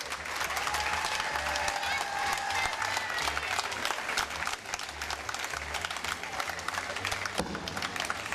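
Audience applause at the Nice jazz festival, a dense continuous wash of clapping from a crowd that fills the whole stretch, with a voice briefly heard over it.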